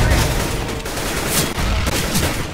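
Dense gunfire and grenade blasts in a CS:GO match crackle loudly and continuously, rapid shots layered over booming bursts with no pause.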